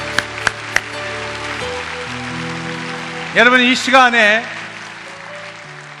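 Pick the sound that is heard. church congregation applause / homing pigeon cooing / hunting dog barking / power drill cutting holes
church congregation applause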